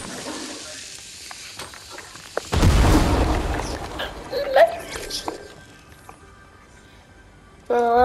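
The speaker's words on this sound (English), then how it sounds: "Well, that'll be in for an explosion" A sudden loud blast in the Fortnite video game bursts out and decays into a rumbling, crackling tail, followed by scattered game effects and a sharp tone at the end, with a player's voice talking around it.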